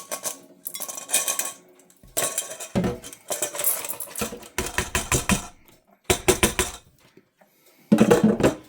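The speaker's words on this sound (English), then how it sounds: "We're going to pour them into the strainer here" Loose beans rattle and clatter into a metal strainer in repeated rushing pours, with brief pauses between them, close and fairly loud.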